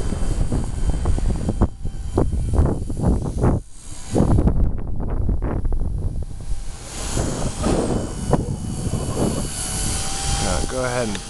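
An RC helicopter's motor whines and surges outdoors during 3D stunt flying, its pitch rising and bogging in uneven bursts, with wind buffeting and a person talking throughout.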